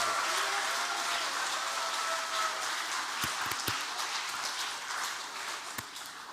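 A church congregation at a Sunday service gives soft, distant applause for the teachers, a faint pattering wash with a few sharper claps that slowly thins out.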